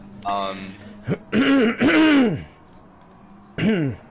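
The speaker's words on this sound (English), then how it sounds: "As I try and clear my throat" Someone commentating a GT Sport racing game broadcast at Brands Hatch Indy speaks in short bursts, then gruffly clears his throat once near the middle, with a quiet, close-miked background.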